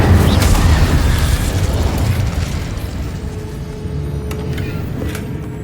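An Incendio fire spell is cast in the video game Hogwarts Legacy, a loud booming fiery burst at the start that rumbles and slowly fades over a few seconds.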